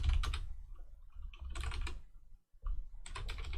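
Someone types on a computer keyboard in three clustered bursts of rapid clicking, separated by short pauses and a near-silent gap, close but quiet.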